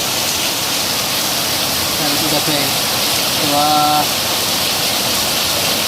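Heavy storm rain pours down steadily as a loud, continuous wash of noise, with someone talking briefly over it.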